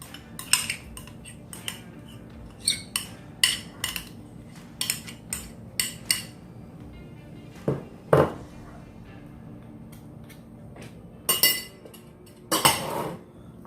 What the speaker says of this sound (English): Get those stirred in there. Get those refried beans broke up.